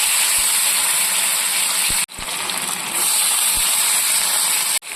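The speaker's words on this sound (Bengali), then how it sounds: "এবার সব সবজিগুলো ভেজে নিচ্ছি।" Potatoes, onions and other vegetables sizzle in hot oil in a pan after rohu fish roe was fried, a loud steady hiss filling the space with two brief breaks.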